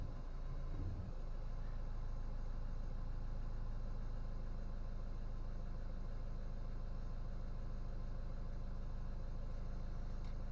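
A Volvo/Ford car engine idles with its Powershift MPS6 6DCT450 automatic gearbox engaged in drive, straining slightly; a low, steady, faint hum runs unbroken throughout with no talking.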